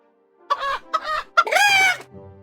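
Chicken emote from the Clash Royale video game: three quick clucks leading into a loud, drawn-out crowing squawk, crisp and close with no other sound.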